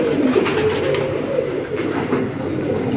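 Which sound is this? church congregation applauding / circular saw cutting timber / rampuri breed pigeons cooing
rampuri breed pigeons cooing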